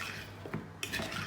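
Halloumi kebab ingredients are stirred in a marinade in a bowl, giving a couple of quick, close clinks and scrapes of utensil against dish in a short burst, with no talking.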